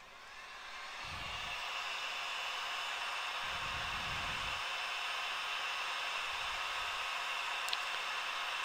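A heat gun blows a steady, loud airy whoosh while heat-setting embossing powder on a polymer clay piece, continuous for the whole stretch with a few low thumps beneath.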